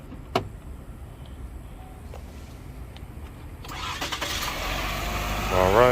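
A Chevy Equinox cranks and its engine catches after a jump start, a brief starter whir turning into a steady idle that grows louder toward the end, with clicks beforehand and a voice talking nearby.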